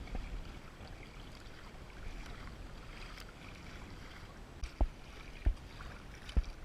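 A kayak paddled on open water on a Florida fishing outing, a low watery wash with light wind and a few soft distinct paddle splashes or knocks toward the end, no talking.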